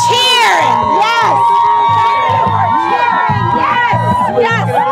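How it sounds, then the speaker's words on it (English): A crowd outside the Supreme Court cheers and shouts, with loud whoops and repeated yells overlapping in a dense, excited burst close by. "We cheer!"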